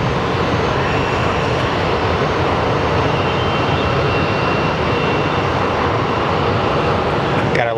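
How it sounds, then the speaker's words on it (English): A WestJet Boeing 737 airliner roars steadily and loudly at an airport, its jet engine noise broad and sustained throughout with no let-up. "So up next is a WestJet 737"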